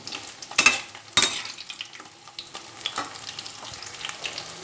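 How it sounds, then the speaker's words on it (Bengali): Cauliflower frying in a pan over a high flame, with a soft sizzle punctuated by a few loud scraping stir strokes early on and lighter stirring afterward, and no voices. "গ্যাসটা হাই ফ্লেমে দিয়ে আমি এটা হালকা ব্রাউন কালার করে ভেজে নেব"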